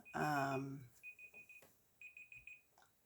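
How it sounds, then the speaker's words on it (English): A kitchen-style timer going off with short repeated high beeps in two bursts, following a brief spoken phrase at the start, near and moderately loud. "that was my timer"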